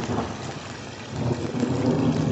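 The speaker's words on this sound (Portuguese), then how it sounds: "Tá só trovejando bastante aqui na região." Summer rain in Adustina, Bahia, gives way to a deep, rolling thunder rumble that swells slightly over a few seconds, with a steady rain hiss underneath.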